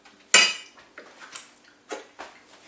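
A utensil stirs chocolate into hot spaghetti in a pot for choc-orange pasta, with one loud close clank followed by several lighter scraping clinks at an uneven pace, with no talk.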